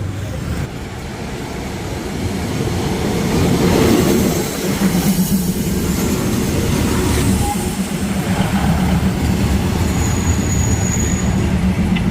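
A passenger train to Nakhon Pathom, Thailand, rolls along steadily, wheels rumbling on the rails with occasional squeals and clacks, continuous and fairly close throughout.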